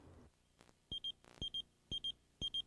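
Pager from a TV commercial for a paging service beeping in four quick double chirps, each pair sharp and high-pitched, evenly spaced over a quiet background with soft thumps between.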